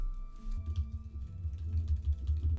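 Keys clatter rapidly and softly on a computer keyboard as text is entered, a close, quiet patter of irregular taps over a low background hum.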